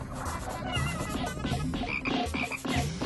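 A frog in the Pikmin video game croaks repeatedly in close, rhythmic bursts over a busy layer of game sound and music.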